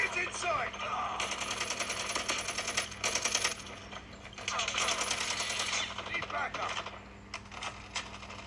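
Gunfire in a first-person shooter video game crackles in repeated rapid bursts and single shots, fairly loud and up close, with short pauses between volleys.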